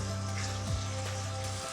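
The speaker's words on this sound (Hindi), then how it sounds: "गोश्त को अच्छी तरह भूनेंगे।" Mutton sizzles and fries in a pot with tomatoes: a steady, close, even hiss with a brief stir partway through and no talking.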